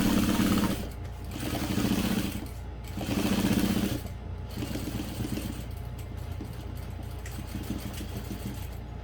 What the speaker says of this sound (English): I'm going to sew this at slightly bigger than a 1/2 inch seam allowance